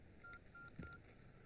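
Telephone keypad tones beep in a quick sequence of short, faint dial tones with a soft click among them, against low background hiss.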